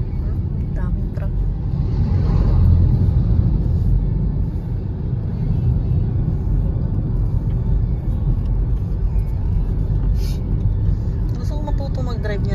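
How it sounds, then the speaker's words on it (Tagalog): Steady low road rumble of trucks and other vehicles going past from inside a moving vehicle on a mountain route, with a continuous engine drone and occasional swells, under people talking. "Daming truck."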